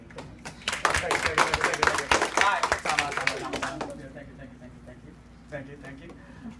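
Scattered audience clapping with a few cheers builds over the first four seconds, sharp irregular claps under murmured voices, then tapers off to quiet room tone.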